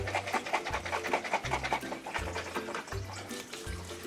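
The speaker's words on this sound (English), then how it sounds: "Now we shake. And what we're doing is we're mixing the salt up and the garlic" A covered jar of pickles with salt and garlic is shaken rhythmically, producing repeated sloshing and rattling bursts at a steady beat, close and fairly loud.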